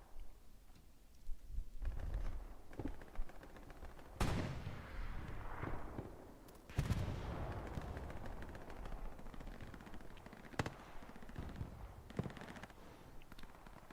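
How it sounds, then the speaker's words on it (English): Big rocket blast in the World War II shooter Hell Let Loose, with sharp explosive bursts around four and seven seconds plus scattered gunfire over a steady battlefield rumble, loud and close. "Ooh, big rocket."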